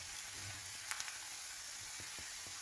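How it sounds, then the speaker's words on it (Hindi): Finely chopped medium-sized onion fries in a pan with a soft, steady sizzle, faint and continuous, broken by a few light stirring clicks near the end. "एक मीडियम साइज़ का प्याज ले लिया है और उसको मैंने बहुत ही बारीक काट लिया है। तो इस तरह से हम इसको शामिल कर देंगे"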